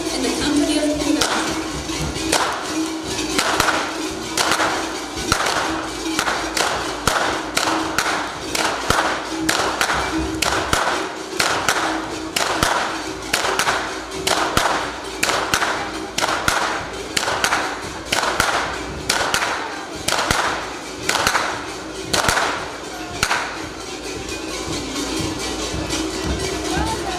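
Repeated loud whip cracks at the Kurentovanje carnival in Ptuj, Slovenia, sharp impacts landing in an irregular but steady rhythm over crowd noise and a constant background drone, close and prominent throughout.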